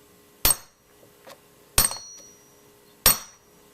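Three sharp metallic taps from a hammer on a 2004 Volvo XC90 door lock grommet, evenly spaced about a second and a half apart, close and clear with quiet between them.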